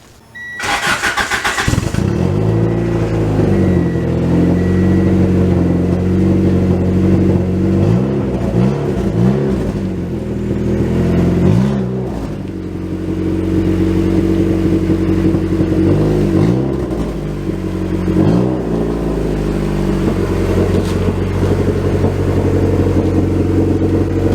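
A car engine fitted with a resonator where the muffler would sit starts up, then idles loudly and revs in a few rising swells. It rumbles close by inside a shop bay as the car creeps forward.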